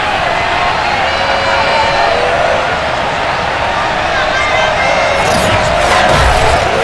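A home crowd fills a simulated Miami Dolphins stadium in Madden NFL 22 on PS5, a dense, steady roar of cheering that swells louder toward the end.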